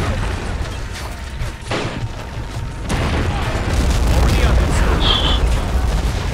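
A crewed artillery gun fires in Men of War: Assault Squad 2, with heavy booms over continuous battle noise while voices talk.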